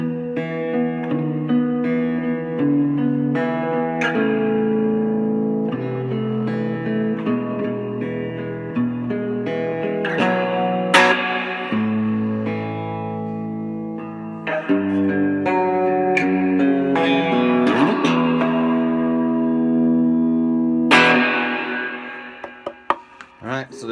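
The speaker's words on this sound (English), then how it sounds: "The very first LPG license plate guitar." A homemade guitar built from a license plate rings out through a clean amp setting with reverb, sustained notes and strummed chords flowing steadily with occasional sharp picked attacks, loud and up close, no voices.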